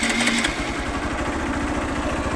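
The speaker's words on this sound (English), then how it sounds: "That's how it sounds on idle." Hero Xtreme 200R, a 200cc sports motorcycle, idling close by with a steady, lumpy exhaust putter and rapid even pulses, alone without talk.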